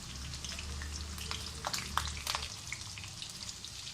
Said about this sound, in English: I've taken a pan and I've heated some oil. First thing I'll put in the pan is some green chilies.